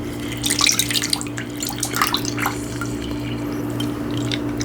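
Liquid from cooked food drips and trickles through a strainer to catch tiny seeds, a soft, close patter that fades to a faint steady hiss.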